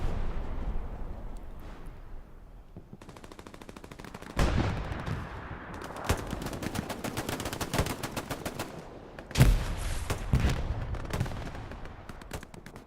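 Artillery fire from Axis self-propelled guns in the Hell Let Loose video game, a string of sharp booming blasts and rapid gunfire cracks at irregular intervals, some distant and some near and loud, in a busy battlefield mix.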